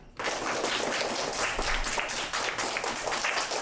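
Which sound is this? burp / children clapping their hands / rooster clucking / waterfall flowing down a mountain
children clapping their hands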